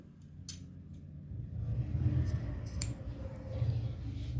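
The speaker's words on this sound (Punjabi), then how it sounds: "ਇੱਥੇ ਵੀ ਆਪਾਂ ਪੱਲੇ ਦੀ ਸੀਨ ਦਾ ਕੱਟ ਪਾ ਦੋ" Scissors snip through cloth while a salwar is being cut out, with a few sharp cutting clicks over a steady low rumble of handling and room noise, fairly close and moderately quiet.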